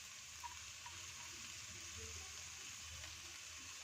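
Chicken curry frying in a pan, a steady, soft sizzle and hiss running evenly throughout with faint stirring clicks, no talk.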